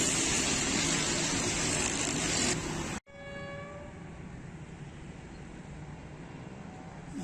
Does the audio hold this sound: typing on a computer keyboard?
no